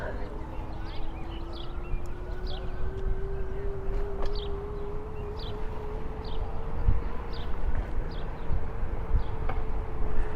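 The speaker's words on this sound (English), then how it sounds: "Sounds like an ambulance." An ambulance siren wails steadily in the distance near the White House in Washington, DC, a faint rising tone over outdoor noise while a person talks.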